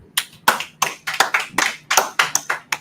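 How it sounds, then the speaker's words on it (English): A church congregation at a Sabbath service claps together for a brother, a steady run of loud, fairly quick hand claps that continues without talk for a few seconds. "Clap it up for the brother."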